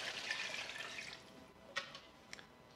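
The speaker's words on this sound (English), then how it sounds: "at this point we're also going to add 2 cups of chicken broth" Chicken broth pours into a soup pot for chicken tortilla soup as a soft liquid rush, which tapers off into a few faint drips and splashes.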